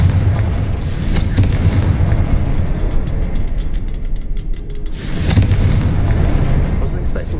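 Confringo fire spell exploding in the video game Hogwarts Legacy, two loud, dense blasts with rumbling tails over a constant noisy game soundscape, with voices partly audible.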